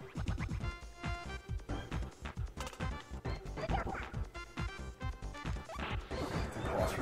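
Repeated crashing and smashing effects from the NES game Super R-Type come in rapid, irregular bursts over a continuous electronic soundtrack, loud and busy throughout.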